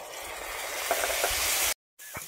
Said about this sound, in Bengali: আমি শুকনো লঙ্কা আর জিরেটাকে দিয়ে একটু ভালোভাবে কষিয়ে নিচ্ছি।